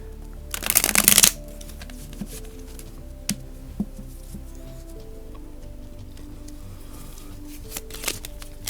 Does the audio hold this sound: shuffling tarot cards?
yes